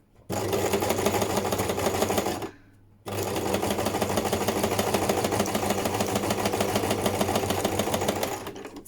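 A sewing machine stitches a pocket onto a paper journal card. It gives a close, steady mechanical whirring rattle in two long runs separated by a brief pause, with no talking.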